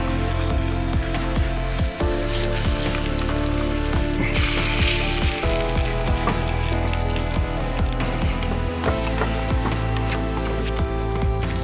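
Eggs with chives frying over a campfire, a steady close sizzle and crackle running throughout with small pops and clinks of stirring, no talking.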